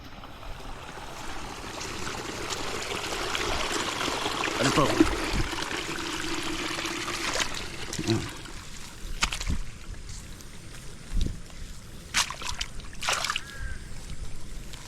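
Water gurgles and trickles steadily as it flows into a rice paddy, pouring and splashing nearby, with a few louder knocks and scrapes mixed in.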